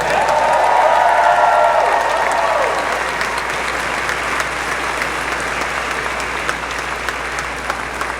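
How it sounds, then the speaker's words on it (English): Steady applause from a large crowd, loud and sustained, gradually easing slightly but continuing throughout. "Let's give them another round of applause."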